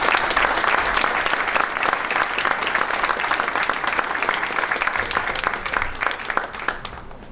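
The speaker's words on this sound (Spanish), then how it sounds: "Para ellos les pido un especial y fuerte aplauso" A hall audience at the Premio Sustentar 2015 opening gives sustained, loud applause for the project evaluators, dense clapping throughout, tapering slightly at the end.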